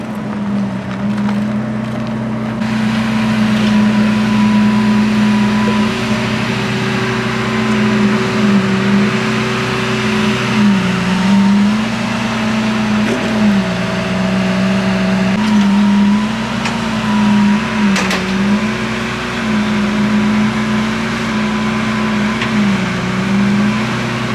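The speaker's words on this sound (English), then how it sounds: "we got the new Countach rolling in too" A new white Lamborghini Countach supercar rolls in at a car week gathering, its engine a steady, loud drone with repeated gentle swells in pitch as it creeps along nearby.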